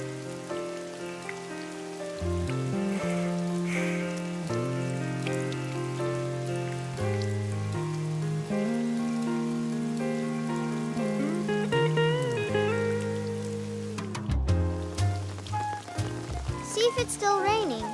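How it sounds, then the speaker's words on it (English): Steady rain falls in a Peanuts motion comic scene, a soft continuous patter running beneath a music score and brief cartoon sound effects. "See if it's still raining."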